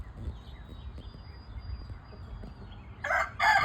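Chickens cluck and a rooster crows near the end, two loud bursts over a low rumbling outdoor background.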